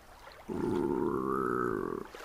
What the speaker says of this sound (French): ça c'était le bruit de son ventre, donc très très faim